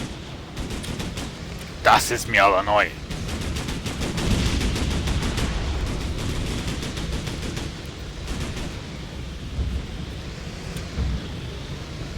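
Gunfire in Operation Flashpoint: Red River, a steady crackle of rifle and machine-gun shots coming from several directions, with a German-speaking voice briefly over it early on.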